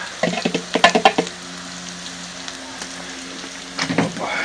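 Onion and carrot fry together on a sadj with soft sizzling and irregular scraping stirs, clattery bursts near the start and again near the end, close by.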